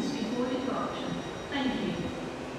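A Great Western Railway train to London Paddington pulls out of Exeter St Davids station with a low, steady rolling rumble and faint wheel noise, and a voice talks over it.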